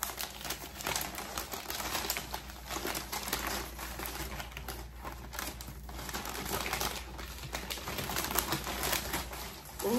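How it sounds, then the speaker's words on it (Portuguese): A packaged Le Creuset purchase being unwrapped, with continuous crinkling and rustling of wrapping material and quick papery taps, close and steady throughout, no talking. "A menina embalou tão bem embaladinha, mas eu vou abrir."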